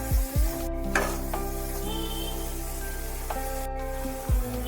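Potato and eggplant pieces with salt and turmeric are stirred over a gas flame, a quiet sizzle with a few spatula scrapes against the pan and a steady hum underneath, no one speaking.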